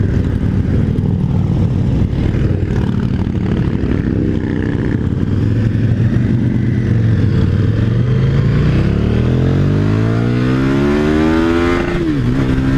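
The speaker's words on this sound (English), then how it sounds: "Love the sound of the exhaust in this engine." A 2018 KTM 1290 Super Duke motorcycle engine revs hard to the rev limiter and climbs in pitch, its exhaust roaring loud and close, then drops sharply near the end.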